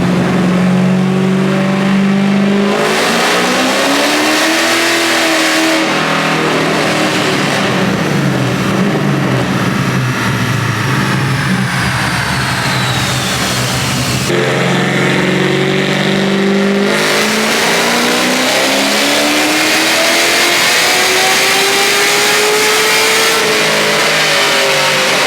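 A Smeding 441-cubic-inch LS3 V8 roars at full throttle on a chassis dyno, climbing steadily in pitch through long sustained pulls with brief shifts between, loud and continuous throughout.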